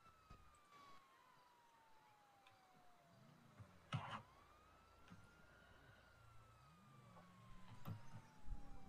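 A police siren in GTA roleplay wails faintly in the distance, its pitch gliding slowly up and down in long sweeps, with a few sharp knocks and clicks close by.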